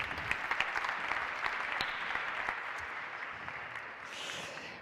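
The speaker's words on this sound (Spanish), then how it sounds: "Aplauso para ella." An audience at a business conference forum applauds steadily for several seconds, sharp individual claps standing out from the dense clapping before it begins to fade near the end.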